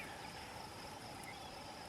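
Crickets chirp on an open prairie on a quiet evening at a truck campsite, a faint, even, continuous trill with no other sounds over it.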